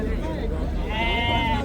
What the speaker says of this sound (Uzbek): Mana bu yerda har doimgidek echkilar, sutli echkilar bozorni oldida bo'ladi.